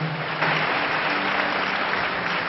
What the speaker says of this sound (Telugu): ఇది గట్టిగా చప్పట్లు కొడదాం.